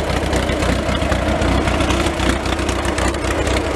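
A John Deere 24 belt-drive machine that smokes a little and needs tuning idles close by, a loud, steady mechanical chugging with a busy rattling texture throughout.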